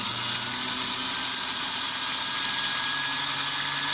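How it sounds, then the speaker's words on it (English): A Kenmore sewing machine motor runs on its own without the foot controller pressed, giving a loud, steady electric whine with a constant high hum and no change in speed over a few seconds. "I've got a Kenmore motor that is running without pushing the foot controller"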